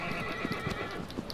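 Agro, the horse in Shadow of the Colossus, gives a loud whinny over rhythmic clip-clop hoofbeats, close and prominent through the short burst.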